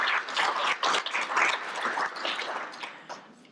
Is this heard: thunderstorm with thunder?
no